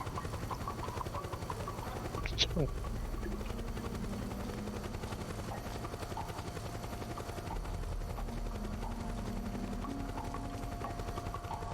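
Helicopter in the video game Metal Gear Solid 4: Guns of the Patriots, a continuous low rotor thrum and engine drone throughout, steady and dominant, with a brief sharp metallic ping early on.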